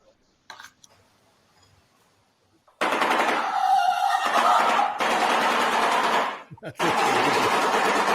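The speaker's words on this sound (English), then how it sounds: "it's like with their beak, they make a machine gun sound" A bird makes a rapid, loud machine-gun-like rattle with its beak, bursting in after a quiet start and continuing in long stretches with a brief break.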